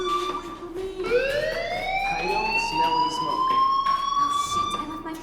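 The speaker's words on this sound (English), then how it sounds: "do you hear that fire alarm? That means you should be outside." Fire alarm wailing in the video game Life is Strange, a steady electronic tone that sweeps upward and then holds, fairly loud and continuous.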